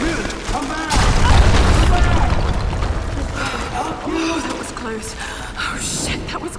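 In the Tomb Raider 2013 video game, an explosion blasts open a cave exit with a loud deep boom, followed by rumbling debris and mechanical clatter, and a voice talks over it throughout.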